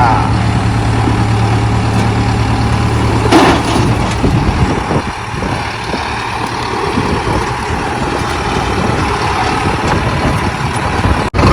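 A 4x4 tractor engine runs steadily with a deep, rumbling idle, close and continuous, with a brief rattling burst partway through.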